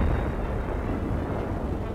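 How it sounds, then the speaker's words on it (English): Dense, rumbling bursts of exploding shells from the battleship Bismarck in 1941 roll together into a continuous heavy roar, loud and distant-sounding, with no voices. "Shells from the doomed Nazi battleship continue to burst."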